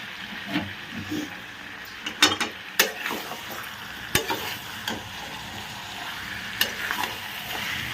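Mutton sautéing in oil in a pan with Kashmiri chilli added, with a steady close sizzle under a string of sharp spoon-scrape and stirring knocks at irregular intervals.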